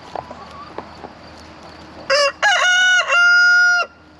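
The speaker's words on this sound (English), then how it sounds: "Got 4 roosters, and they all think they got crow at the same time" Several roosters crow in overlapping, drawn-out calls, close and loud after a couple of seconds of soft clucking and scattered farmyard noises.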